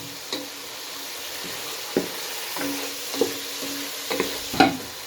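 Chicken and capsicum curry frying in a pot gives a steady close sizzle, broken by a few sharp knocks and scrapes of a spoon stirring against the metal.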